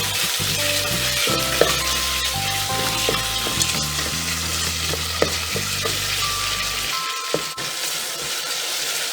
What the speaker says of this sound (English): I have taken 2 big onions and ginger garlic paste. Fry till it is golden brown.